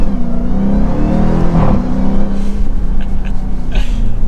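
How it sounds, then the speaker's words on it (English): A 2023 Dodge Durango SRT Hellcat, a supercharged 700-horsepower all-wheel-drive SUV in sport mode, revving and accelerating through a short shift, a loud close engine drone rising and dipping with brief crackles. "in sport mode, there is so much drama to even short shifting"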